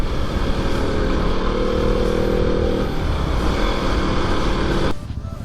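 Motorcycle ridden through hill country around Mokokchung, a loud steady engine drone with wind rush that holds constant before easing off suddenly near the end.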